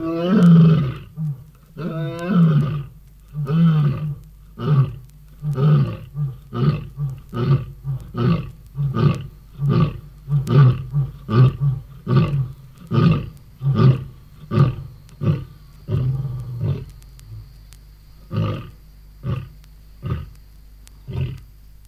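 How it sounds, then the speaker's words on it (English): A big male lion roars to his pride on the African plains at evening, a long series of deep, loud grunting roars that builds up, then settles into a rhythmic run of shorter pulses that gradually trail off. "This is the sound which gazelles and antelopes on the plains recognize as the lion prides move into position, ready to kill."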